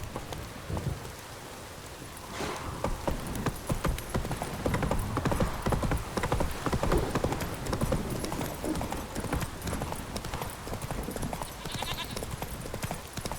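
Horse hooves clip-clop steadily along a path in the Witcher 3 game during a heavy downpour, with rain hissing constantly beneath the rhythmic hoofbeats and no voices.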